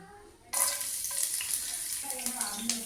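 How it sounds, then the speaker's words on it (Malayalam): Chillies are dropped into hot coconut oil. After a quiet moment, a loud, close sizzle bursts out and crackles on steadily with small pops. "വെളിച്ചെണ്ണ നല്ല പോലെ ചൂടായതിന് ശേഷം പിന്നെ അതിലേക്ക് ഞാൻ 2-3 മുളക് ഇട്ടിട്ടുണ്ട്"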